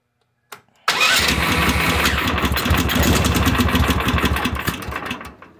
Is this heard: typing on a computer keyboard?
no